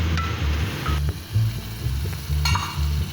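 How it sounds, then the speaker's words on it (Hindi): Tomato masala frying in ghee over low heat, a steady soft sizzle with periodic stirring scrapes in a repeating rhythm, close and continuous without any talk. "ये मसाला भुन गया है"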